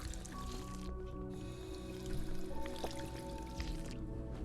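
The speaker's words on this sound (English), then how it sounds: "It's nice to have some purified water to sip on." Purified water being sipped in Fallout 4: soft wet gulping and slurping with a few drips, steady under a constant humming game ambience with faint tonal music.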